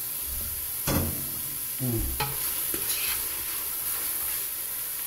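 Meat for chili cooks on medium heat in a pot, a steady close sizzle broken by a few scraping stirs of a utensil against the pot, with no talking.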